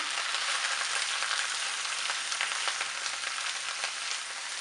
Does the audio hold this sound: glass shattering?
no